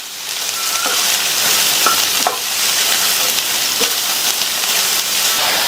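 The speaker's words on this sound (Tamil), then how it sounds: "இது கூட கட் பண்ணி வச்ச புடலங்காயை சேர்த்துட்டு எண்ணெயிலேயே நல்லா 2 நிமிஷத்துக்கு இந்த புடலங்காயை வதக்கி விட்டுக்கங்க" Snake gourd sautés in oil with onion: a loud, constant sizzle with scattered light clicks of stirring close by and no voices.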